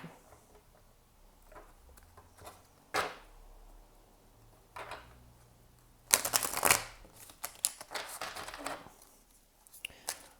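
Tarot cards being shuffled close up in short soft bursts, with a louder riffling flurry partway through, amid quiet room sounds.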